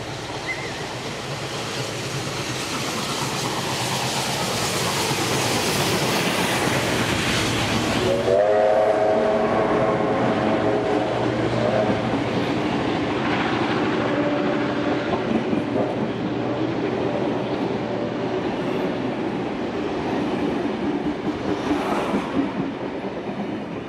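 A train rumbles steadily nearby, then a loud whistle sounds and the noisy rolling and clatter continue throughout.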